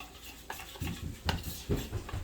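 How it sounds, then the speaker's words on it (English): Sriracha and pizza sauce being stirred together in a bowl for a homemade Mexican pizza, a few soft scraping and tapping strokes spaced irregularly, close and fairly quiet with no talking. "I've already put together some sriracha and pizza sauce, and I'm just going to mix it together real good"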